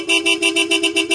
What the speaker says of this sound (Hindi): आपको सुनाता हूँ साउंड हॉर्न का कैसा है।